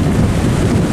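Strong wind and waves at the harbor mouth of La Gi, Bình Thuận, as large trawling and lift-net fishing boats head out to sea, a loud, constant roar of gusting wind buffeting the microphone with rushing water underneath.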